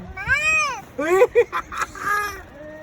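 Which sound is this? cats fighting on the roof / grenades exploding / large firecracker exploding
cats fighting on the roof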